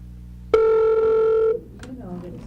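A telephone at a missing-child search center gives a single loud electronic ring lasting about a second, followed by faint background noise.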